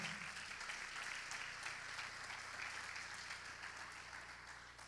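A church congregation clapping loudly and continuously, a thick, even roar of many hands under a low steady hum, with no pauses.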